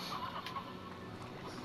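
Chickens cluck in a video game, a brief run of soft clucks over steady game background noise, with no talking.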